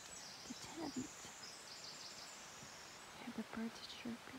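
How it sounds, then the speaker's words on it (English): Soft, faint chirps of birds among redwoods beside a glamping tent in Gasquet, California, scattered in short bursts over a quiet rustling background. "Hear the birds chirping."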